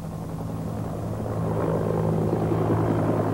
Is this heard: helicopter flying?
yes